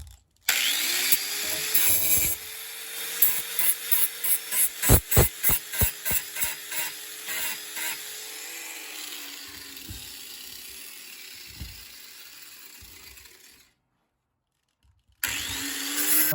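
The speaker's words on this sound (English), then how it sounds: "pre-drill some holes. Because when you're drilling through this old pine" Drill boring pilot holes through old pine boards for a small birdhouse, a rapid run of close, loud whirring bursts that settles into a steadier grinding whine before stopping, then a brief pause and renewed noise at the end.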